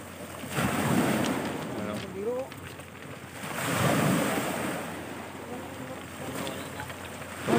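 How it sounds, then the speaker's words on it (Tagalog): Strong sea waves surge and break at night on a Peruvian shore at a camping spot, two big swells rolling in over a constant roar of surf and wind, with people talking faintly underneath. "malakas kasi yung alon"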